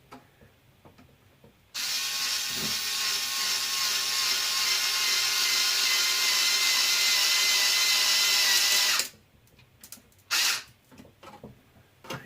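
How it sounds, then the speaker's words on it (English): Power screwdriver with torque settings driving a screw into nylon on a Losi LMT wheelie bar wheel, one continuous loud whirring run of about seven seconds, then a short burst near the end, no talking. "if you are using a power screwdriver, I would definitely suggest doing the last bit by hand"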